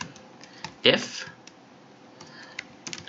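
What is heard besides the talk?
typing code on computer keyboard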